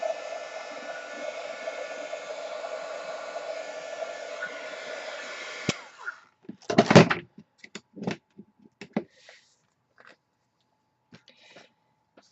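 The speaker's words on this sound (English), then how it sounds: "to get rid of your strings, we all know that you use your heat tool." A crafting heat tool, run lightly over a shabby chic card to melt away stray strings, blows with a steady whirring rush for about six seconds, then cuts off, followed by scattered light knocks and clicks.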